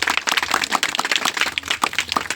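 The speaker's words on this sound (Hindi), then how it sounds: "सभी के लिए हम जोरदार ताली बजाएं" A crowd claps at an engagement ceremony, a dense, fairly loud burst of many hands patting irregularly for a couple of seconds, with no voices over it.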